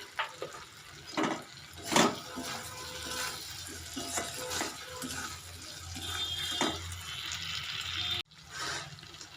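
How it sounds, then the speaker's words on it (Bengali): Water splashes and runs into a pan of fried mustard paste with Kashmiri chilli powder while cooking taro and prawn curry, a steady pouring rush with a few louder splashes and a brief gap near the end. "মশলাটা তেল ছেড়ে দিয়েছে এবার জল দিয়ে দেবো"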